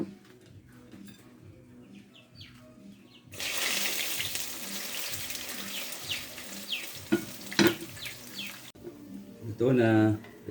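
Okoy shrimp fritters crackle and sizzle in hot cooking oil, a steady close hiss broken by sharper pops and the scrape of stirring, with faint background noise and a brief tap-like burst near the end.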